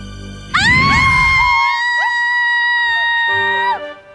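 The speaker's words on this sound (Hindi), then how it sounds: "क्यों चिल्ला रही हैं आप?" A woman's loud, sustained high-pitched scream in a Hindi fantasy TV drama, rising sharply and holding for about three seconds before breaking off, over a brief low rumble at the start.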